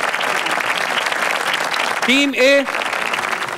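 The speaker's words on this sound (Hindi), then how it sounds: "तीनों टीम के लिए बहुत सारी तालियां होनी चाहिए।" A studio audience on an Iftar transmission TV show gives the teams dense, steady applause. A voice briefly calls out over the clapping partway through.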